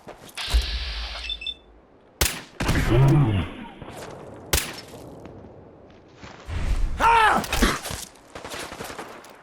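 Several sharp gunshots from a bolt action rifle crack out in a video game, spaced apart and mixed with whooshes, impacts and game voices, loud and close.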